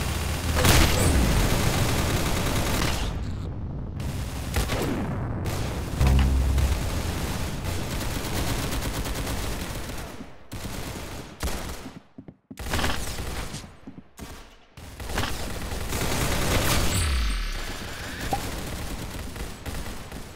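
Gunfire and explosions in the Roblox shooter Arsenal, bursts of rapid shots and heavy booms that come in waves, loud and close, broken by short gaps of near silence, with no speech.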